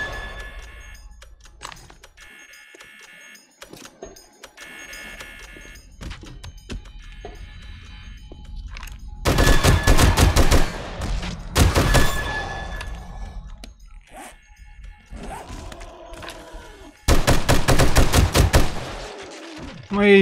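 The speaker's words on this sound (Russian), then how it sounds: "Этот пулемет всяко помощнее." A machine gun in the video game 7 Days to Die fires in loud, close, sustained bursts of rapid shots, broken by quieter stretches of game sounds and clicking.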